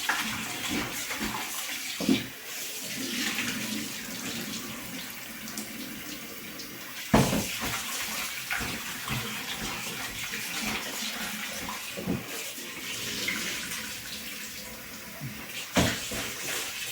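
Raw chicken is washed under running tap water in a kitchen sink, the stream splashing steadily with louder sloshes and clunks now and then as the meat is handled, and no talking throughout.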